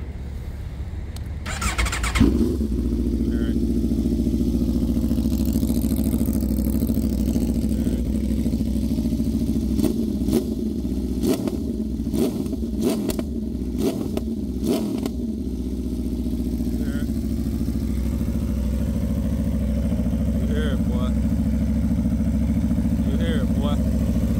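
A 2023 Aprilia RSV4 Factory V4 superbike fires up close by and settles into a loud, steady idle, with a run of sharp throttle blips near the middle before it returns to a rumbling idle.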